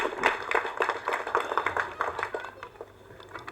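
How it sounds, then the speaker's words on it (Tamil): Audience applause at a Tamil film audio launch event, a dense burst of clapping from many hands that swells, then gradually thins and fades out. "ஸோ அதுக்கு ஒரு மிகப்பெரிய கைத்தட்டல் இளையராஜா அவர்கள்."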